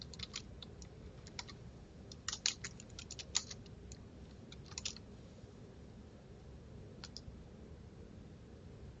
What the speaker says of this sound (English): I can start typing and it will autofill with search results.